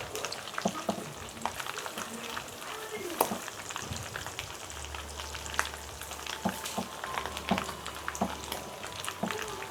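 Meat shallow frying in a pan of oil, a steady close sizzle and crackle running throughout with occasional clinks and stirring bumps, a low hum underneath.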